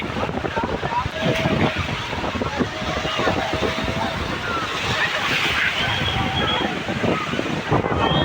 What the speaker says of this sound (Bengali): ক্রমশ ঢেউ বাড়ছে বন্ধুরা ক্রমশ ঢেউ বাড়ছে